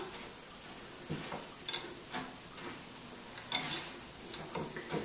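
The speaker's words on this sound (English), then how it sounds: "And now we're just going to mix it all together." Soft, irregular scrapes and taps as a raw chocolate truffle mixture with ginger and dried goji berries is stirred together in a bowl, quiet and close, with no talking.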